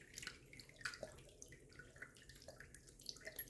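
A tap runs to rinse a razor during a wet shave, giving a faint, steady, close splashing hiss with small drips and no talking.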